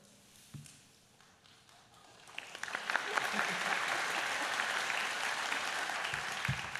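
Applause at a college convocation ceremony starts from near quiet, then builds into a steady full round of clapping from many hands. The sound stays moderately loud, with no voice heard over it.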